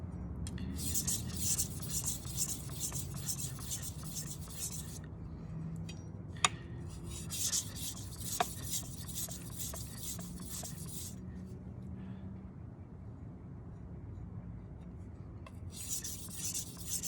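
A knife blade scrapes across a sharpening stone in long, steady rhythmic strokes, with pauses between runs and a couple of sharp metallic ticks, close and fairly quiet.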